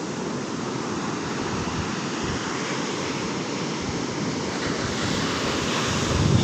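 Big ocean waves break on Puri beach in a continuous, heavy roar of surf, with wind rumbling on the microphone and the sound swelling slightly toward the end.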